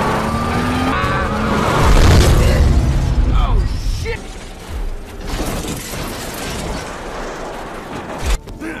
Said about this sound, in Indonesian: That you now see are engaged in a high-speed pursuit following a black sedan.